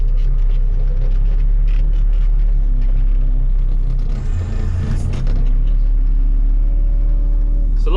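A fertiliser delivery lorry manoeuvring on a farm near a grain shed: a steady, close engine rumble runs throughout, with a brief swell midway, and faint voices sit underneath.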